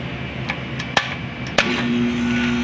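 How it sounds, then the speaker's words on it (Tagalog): A split-type Everest air conditioner compressor starts up during a repair: a few sharp clicks and a knock come first, then a firm thump as it kicks on and settles into a steady, close electrical hum. "Tumanog yung compressor."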